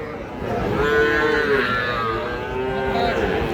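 A heifer calf moos loudly and close by, one long drawn-out call that rises and falls, with faint background noise.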